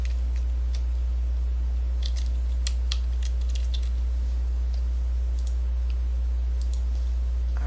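Light, irregular clicking of keys being typed on a computer keyboard for text in Silhouette design software, in short scattered bursts over a steady low electrical hum, with no talking.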